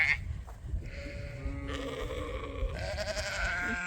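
Young sheep ewes bleat in a pasture, several overlapping calls close by, one after another across a few seconds.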